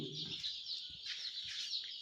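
Desi country chickens in a poultry-rearing setup give off a steady, dense chorus of high peeping and clucking. Several birds call at once, fairly close, with no talk over them.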